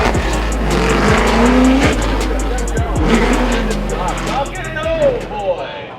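A 1000whp blown LSX-powered Nissan 350z race car at a drag event loses control, with loud engine roar, tire squeal and skidding up close, sharp impact-like bursts, and voices talking over the commotion.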